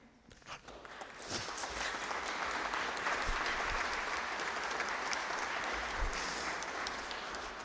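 Sustained applause from mourners gathered at the wake of artist Fernando Botero in the Congress of the Republic, a steady broad wash of clapping filling the room with a few louder claps near the start.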